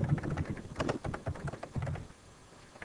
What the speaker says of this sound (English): Hit Enter on your keyboard,